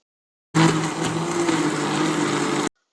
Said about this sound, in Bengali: এবার এই মশলাটাকে মিহি করে বেটে নেব কোনো জল অ্যাড করবই না